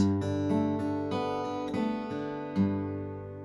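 A strummed acoustic guitar major add9 chord rings out with bright, full harmonics, struck several times in a steady rhythm and left to sustain and fade.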